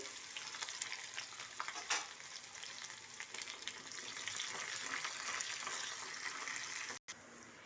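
Onions and garlic crackle and sizzle in hot tempering oil, a constant bright hiss heard close up with occasional sharp pops.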